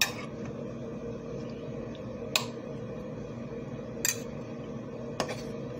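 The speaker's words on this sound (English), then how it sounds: "so I just give them a little stir" A spoon stirs food in a pot, tapping the rim in three light, spaced metallic clinks over a quiet, even background.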